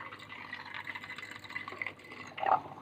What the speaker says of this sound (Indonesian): Nah, ini airnya mulai ada arusnya.